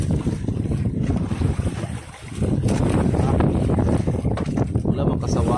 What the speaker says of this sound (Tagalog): Sana may isda dito kahit malakas ang hangin.